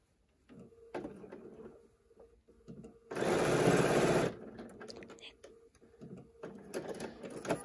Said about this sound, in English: And then I sew right over it and stop again.